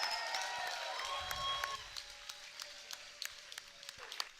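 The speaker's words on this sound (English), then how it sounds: "How about a round of applause for one hell of a championship fight," Scattered, fairly faint crowd applause and a few cheers in an arena after a championship cage fight, with sparse individual claps over a sustained tonal hum and background noise.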